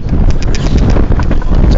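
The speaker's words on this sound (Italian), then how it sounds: "il vento che si sta alzando, che è un po' impetuoso" Strong, gusty wind on a snowy mountain slope at a snowboarding spot buffets the microphone with a loud, continuous roar and low rumble.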